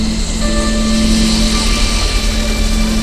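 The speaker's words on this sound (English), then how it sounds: "first by an ambulance and then by the medical helicopter" A medical helicopter at the Dakar rally gives off a loud, steady rotor and engine drone close by, with a constant low throb and no gaps.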